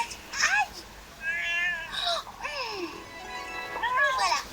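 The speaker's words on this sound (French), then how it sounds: "Oh, le pauvre, c'est un petit minou qui s'est coincé la patte." A small cat with its paw stuck meows repeatedly, plaintive rising-and-falling cries close by, several distinct calls spread across a few seconds with soft background noise between them.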